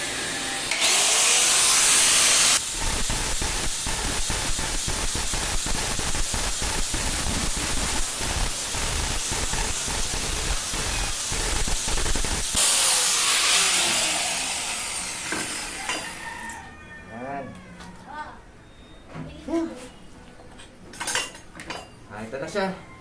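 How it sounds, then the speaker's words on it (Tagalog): An angle grinder works on a welded steel stove chamber, giving a loud, steady, harsh whine with a rough metallic scrape for about fifteen seconds. It then winds down into lighter metal clatter. "Tapos, i-grind na lang natin ng bahagyan."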